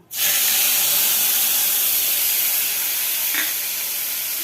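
Ground coriander, cumin, turmeric, ginger and chilli powders hit hot refined oil in a pan, giving a loud, steady sizzle and hiss that starts abruptly and holds for several seconds with no talking.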